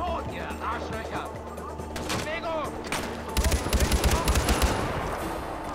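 Heavy bursts of gunfire from a weapon in the video game Far Cry 4, loud and close, starting sparse and turning into a rapid volley of shots in the second half, with game ambience underneath.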